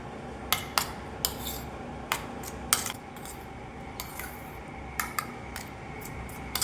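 A spoon mixes mashed banana and cooked semolina into baby food, tapping and scraping against a bowl in a loose, irregular series of sharp clinks close by, with a faint background hum and no talking.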